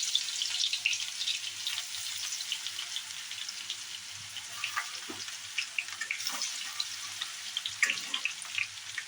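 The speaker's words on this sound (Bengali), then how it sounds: "এবার গরম তেলের মধ্যে দিয়ে দেবো রসুন কুচি" Chopped garlic tipped into hot oil while making chilli chicken, a steady close sizzle and hiss with scattered crackles and spits, and no talking.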